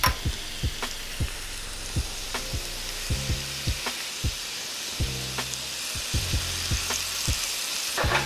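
Seasoned shrimp with fresh lemon juice sizzle steadily in butter in a skillet, a loud close hiss punctuated by regular knocks and scrapes as the pieces are tossed around.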